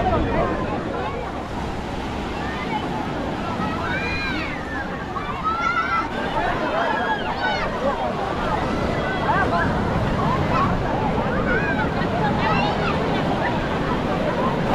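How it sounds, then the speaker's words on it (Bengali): Surf at high tide washes up against the rocks at Old Digha sea beach, a steady broad roar with gusts of wind buffeting the microphone and a faint babble of distant voices along the shore. "এই হলো ওল্ড দীঘা সি বিচ। এখন জোয়ার রয়েছে, সেজন্য জল একদম পাথরের গোড়ায় চলে এসছে।"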